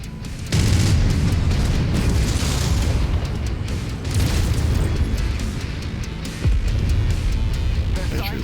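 Rolling explosions in the MechWarrior 5 Mercenaries video game as a base is demolished, with loud repeated booms in sustained bursts and someone talking over them.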